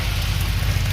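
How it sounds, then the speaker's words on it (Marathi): Light rain falling outdoors, a dense, even hiss of drops with a low steady rumble underneath, continuous and fairly close, with no talking. "कमी आहे पाऊस चालू बाहेर"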